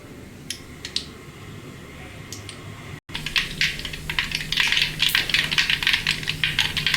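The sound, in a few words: mustard seeds popping in hot oil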